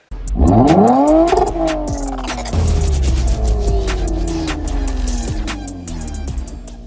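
A 2008 Hyundai Elantra pulls away, its engine rising sharply in a loud rev, then holding a long pitch that slowly drops and fades as it drives off into the distance.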